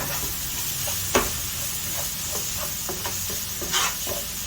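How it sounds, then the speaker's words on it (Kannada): Spices and chili powder sizzle and fry steadily in a pan for a squid stuffing, with a low constant hiss and a few sharp spoon scrapes and taps close by. "ಎಲ್ಲ ಮಸಾಲೆನ ಚೆನ್ನಾಗಿ ಹಸಿ ವಾಸನೆ ಹೋಗೋವರೆಗೂ ಫ್ರೈ ಮಾಡ್ಕೊಳ್ಳೋಣ"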